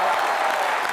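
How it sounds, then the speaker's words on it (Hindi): Studio audience on a comedy show clapping loudly, a brief continuous burst of applause filling the whole moment with faint crowd murmur mixed in. "उनके लिए भी जोरदार तालियां बनती हैं।"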